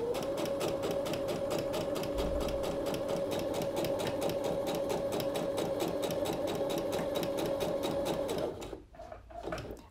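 Sewing machine stitching a blouse seam, a loud, close, steady rapid mechanical whir with a fine even needle rhythm and a constant motor hum, running for about eight seconds before stopping with a few soft handling bumps.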